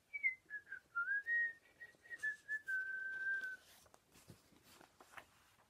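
A person whistles a short, wavering tune alone and fairly faintly, then a few soft clicks and rustles follow.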